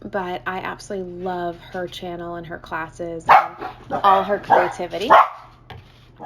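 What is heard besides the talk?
dogs barking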